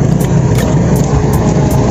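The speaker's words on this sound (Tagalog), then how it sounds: "Oh, may motor. Ang motocross yun." A motocross motorcycle engine passes close by on a road, a loud continuous roar that holds steady throughout without any talking.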